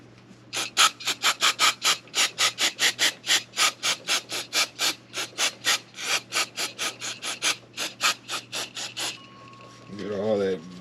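Rhythmic back-and-forth scrubbing on a Jeep WJ engine part with brake cleaner, about thirty quick, even strokes close up, then a brief spray-like hiss and a rising whistle-like tone at the end.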